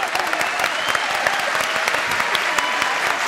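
Audience applause fills a TV music show studio, a dense, steady clatter of many hands clapping throughout at fairly loud, even volume.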